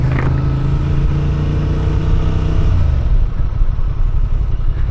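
Honda Transalp 750 motorcycle being ridden, its engine droning loud and steady with a shift in pitch partway through, mixed with wind and road rumble.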